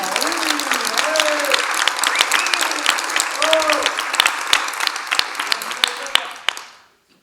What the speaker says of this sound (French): On applaudit bien fort Magali!